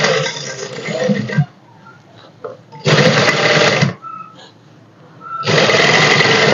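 A sewing machine stitches a dress sleeve in three close, loud runs of rapid whirring, broken by brief quieter gaps with faint handling sounds.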